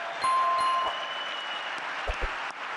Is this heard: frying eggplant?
no